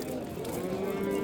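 A cow lowing at the Yozyovon livestock market, one sustained close moo held steadily for over a second above a busy background murmur.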